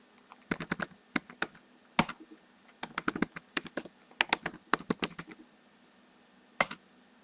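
Password being typed on a computer keyboard: several quick clusters of crisp key clicks, close and fairly quiet, separated by short pauses, ending with one isolated keystroke.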